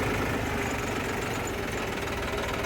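A Massey Ferguson 246 tractor engine runs at low rpm in top gear, ready to climb a slope, giving a steady, close, chugging drone with a faint knocking pulse and no talk.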